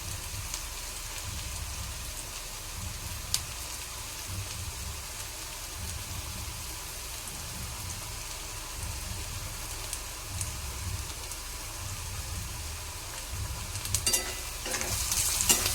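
Two onions fry in a pan before dried fish is added, a constant soft hiss and sizzle that sounds a lot like rain, steady and close, with a few faint clinks near the end.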